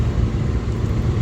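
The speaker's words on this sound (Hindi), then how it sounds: "ट्रैफिक ही ट्रैफिक है यहाँ पे।" Low, steady rumble of heavy street traffic during Diwali shopping in the evening, a continuous near engine drone with no voices.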